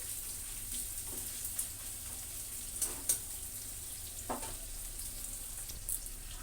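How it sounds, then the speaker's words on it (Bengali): Sliced onions for biryani frying in oil, a faint, continuous low sizzle with a few soft stirring clicks and scrapes scattered through. "এটা ব্রেস্তাটা ভেজে নে তেলে"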